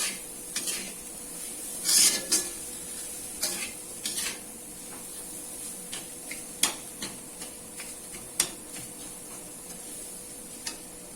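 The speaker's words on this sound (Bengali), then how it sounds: "এবার ভালো করে সুজির সাথে খোয়া ক্ষীরটা মিশিয়ে নিতে হবে" A spoon stirs semolina with khoya kheer in a pan, making intermittent scraping and light clinking taps against the metal, with a faint background hiss and no talking.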